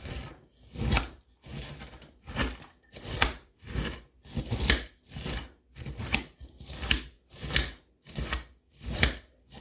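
Steady, rhythmic chopping on a cutting board, about a dozen even knife strokes at a regular pace, close and clear.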